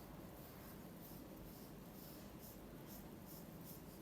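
Pencil lightly shading a drawing of an apple on paper, a soft continuous scratchy rubbing that stays steady and quiet throughout, close up, with no talking.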